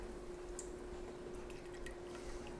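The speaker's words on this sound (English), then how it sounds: "go ahead and pour about a half a cup of heavy cream in here." Heavy cream poured into a pot of simmering roasted butternut squash soup gives a faint, soft liquid trickle with a few small drips over a steady low hum, with no talking.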